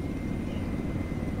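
A military helicopter in a video game produces a steady, dense rotor and engine roar, loud and unbroken throughout.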